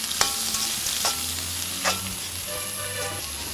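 Onions sauté in coconut oil with a loud, steady sizzle, punctuated by three or four distinct spatula scrapes and stirring knocks; no voices.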